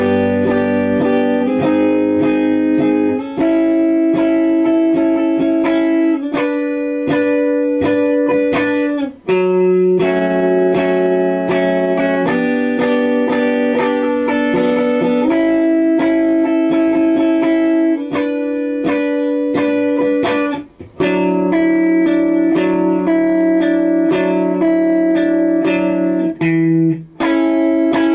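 Electric guitar working slowly through a section of a song: a steady run of loud strummed chords and sliding changes, played continuously and alone for nearly half a minute.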